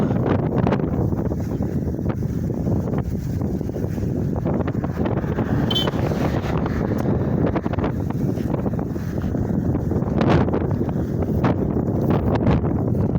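Strong wind roars and buffets a microphone outdoors in Abaco, a constant loud rumble with no break and no voices.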